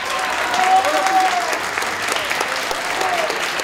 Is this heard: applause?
yes